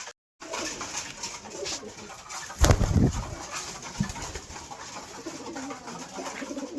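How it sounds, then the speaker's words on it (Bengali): Pigeons coo softly and repeatedly at close range while feeding, with a louder burst of cooing and light fluttering partway through over a steady background. "কবুতর এখন খাদ্য খাচ্ছে"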